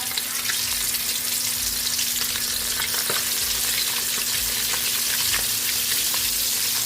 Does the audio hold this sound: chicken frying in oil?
yes